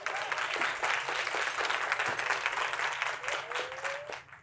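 Conference audience at a business keynote applauding, giving a dense, steady roar of clapping throughout with a faint voice underneath.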